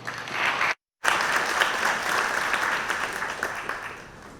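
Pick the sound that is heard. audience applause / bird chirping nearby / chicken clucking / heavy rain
audience applause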